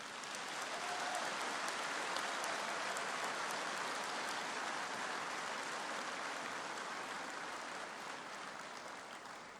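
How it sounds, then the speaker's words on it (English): Applause from an audience seated in the stands at a university humanities graduation ceremony, a dense, steady wash of clapping that holds for nearly ten seconds and eases slightly near the end, heard at a moderate distance. "I'm now going to invite the people sitting in the stands to applaud you"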